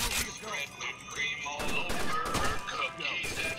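Gunfire in Rainbow Six Vegas 2 multiplayer, rapid bursts of automatic shots and impacts in quick succession, moderately loud, with a voice talking over the shooting.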